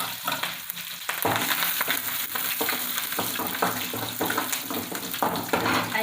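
Two cut green chilies and curry leaves fry in hot oil, giving a loud crackling sizzle that pops and spits continuously up close, with small bursts and scrapes throughout.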